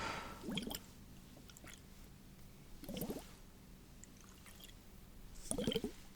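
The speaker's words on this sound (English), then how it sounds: "Ice globes. I think they're called." Ice globes are handled close up in an ASMR setting, making three soft, wet squishing and clicking bursts spaced a few seconds apart against quiet background.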